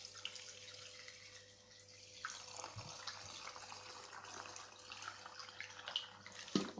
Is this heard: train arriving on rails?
no